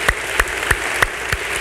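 A church congregation at an evening worship service clapping in unison, five loud, evenly spaced claps in a steady rhythm against a continuous background murmur.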